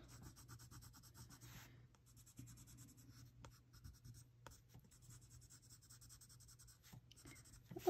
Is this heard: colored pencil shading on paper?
yes